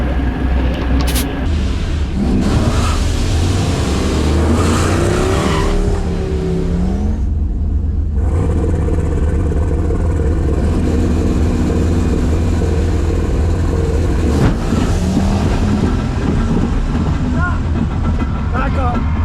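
Street race car at a spring street racing event, loud continuous engine roar and tire noise close by as it launches and the tires hook, with voices talking over it.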